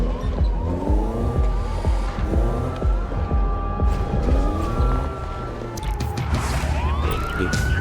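Police car siren wailing in the racing video game Need for Speed Most Wanted, rising and falling over a loud, continuous roar of engines with tire squeals and skids throughout, no talking.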